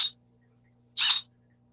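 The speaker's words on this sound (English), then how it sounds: "It's a Pewaka, and this is what they sound like." Two short, high chirpy calls of a New Zealand fantail (pīwakawaka) separated by a pause, the first clipped at the start, clear and fairly close in otherwise silent surroundings.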